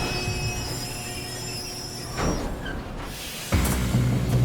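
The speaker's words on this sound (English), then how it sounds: "We're gonna politely coerce this train into stopping." A train in Red Dead Redemption 2 brakes to a stop, rolling rail rumble under long high-pitched wheel squeal, with a shift in the clatter near the end.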